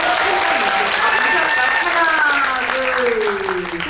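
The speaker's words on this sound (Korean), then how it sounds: "세 분이 퇴장하시는 동안 또 영화 잘 되라고 응원의 박수 보내주시기 바라겠습니다" A cinema audience at a Megabox COEX guest-visit screening of The Roundup: No Way Out claps loudly and densely. Voices can be heard over the applause for the whole length of it.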